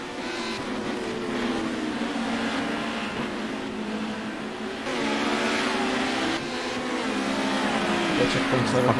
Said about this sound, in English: Look at that pack of cars.